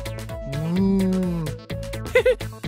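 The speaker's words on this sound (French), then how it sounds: "ceci est une vache" A cow gives a long, loud, drawn-out moo close by, followed by a second lower call and a few brief higher sounds.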